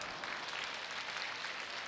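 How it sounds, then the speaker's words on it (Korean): A church congregation at a Friday prayer service claps in a brief, soft, steady patter, heard a little distant with no voices over it. "왜 박수를 치고 그러시는지."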